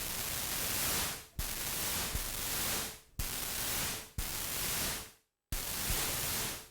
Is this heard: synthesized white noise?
yes